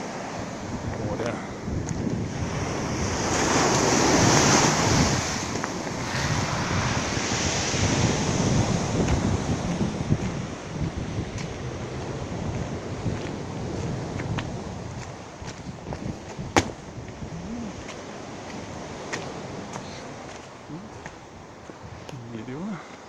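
Winter sea waves washing onto the shore at Alushta in January, swelling and receding under gusty wind buffeting the microphone, loud and close, with a few sharp knocks late on.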